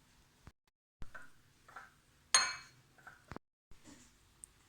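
Spoon clinking against a bowl while stirring raisin cake batter with a spoonful of flour, a few sparse close knocks and scrapes with one sharper clatter, quiet otherwise.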